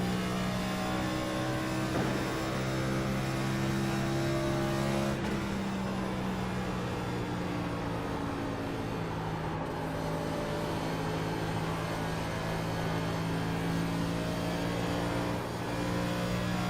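A NASCAR race car engine at Homestead-Miami drones loud and steady, its tone shifting slightly as the throttle comes back on, running continuously with no voices.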